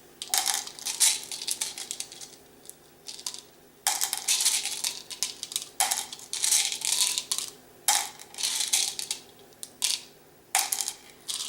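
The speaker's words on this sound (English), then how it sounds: "randomly select 10 beads from beaker 1 and place them in an unused beaker" Small beads clicking and rattling as they are dropped into a lab beaker, in irregular bursts of light taps, close and fairly quiet.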